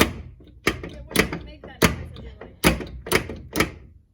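A front door that will not shut flush is pushed closed several times, giving a series of dull thunks and knocks at irregular intervals, with a person talking quietly between them.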